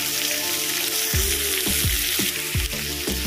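Crab dropped into hot oil in a wok for a Bengali crab malai curry, giving a steady loud sizzle with repeated sharp popping bursts and spatters, no talking.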